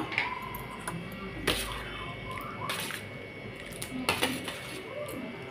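Boiled vegetables go from a pot into pea lentil dal, producing clanks and scrapes of metal cookware and utensils in a few sharp knocks, with soft wet sloshing between them.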